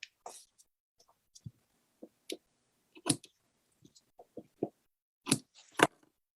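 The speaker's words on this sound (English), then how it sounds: "take your ribbon scissors and you're going to trim super," Ribbon scissors trim the loose ends of a ribbon close to the knot, giving a few sparse, quiet snips and clicks up close with soft handling noise between them.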